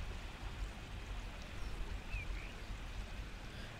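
Steady, loud rushing water roars without a break in the video game Starshine Legacy, with no one talking.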